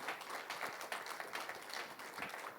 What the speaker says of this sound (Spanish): Le damos un fuerte aplauso al Señor Jesucristo.